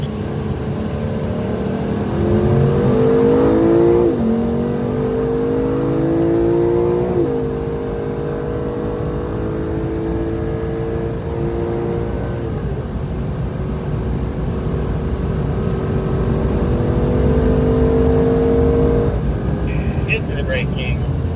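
A race car at the Circuit of the Americas brakes for turn 12, its loud engine note dropping in steps as it downshifts, then holding a steady, droning whine heard from on board.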